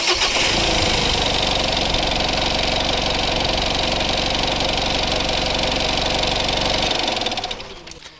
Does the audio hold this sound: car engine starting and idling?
yes